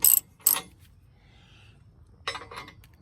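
Bolts being tightened on a Draw-Tite front-mount hitch under a Ford Super Duty truck: short metallic clinks and ratchet clicks in two bursts separated by a quiet pause, close and fairly faint.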